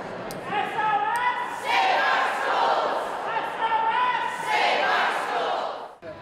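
Hundreds of teachers rallying at the State House, a loud crowd chanting and cheering in rising, repeated waves with overlapping voices and a few sharp whistles near the start.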